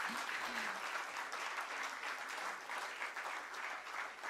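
Sustained applause from a large audience at a stock exchange listing ceremony for an infrastructure investment trust, steady dense clapping filling the whole stretch with no pauses.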